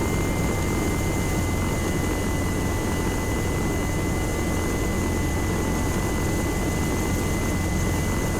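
A small helicopter in the video game Arma 3, its engine and rotor forming a loud, continuous whooshing drone that holds steady throughout with no voices.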